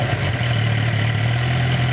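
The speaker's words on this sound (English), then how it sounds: "Rev it up a little bit." A 2009 Suzuki Gixxer 750 motorcycle engine runs steadily at a fast idle with a slight rev, a close, loud, continuous low hum with no talking.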